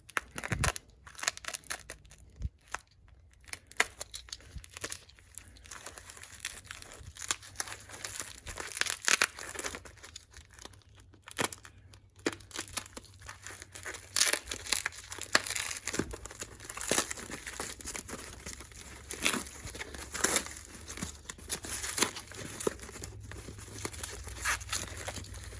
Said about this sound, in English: we're gonna get our cheapo knife one more time